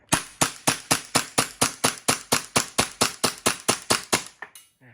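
A WE Galaxy gas blowback airsoft pistol, a 2022 model, fires a fast, evenly spaced string of about seventeen sharp, loud cracks at close range, then falls silent as the magazine runs dry.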